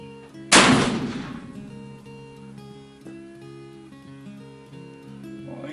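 A single loud black-powder shot from a Pietta 1858 Remington revolver fired at cans outdoors, a sharp blast with a lingering decay, followed by quieter steady background hum.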